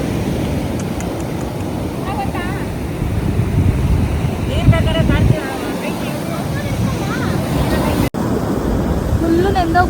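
Ocean waves wash up onto a beach in a steady, close surf roar, with heavy wind buffeting the microphone and a few faint voices and shouts in the background.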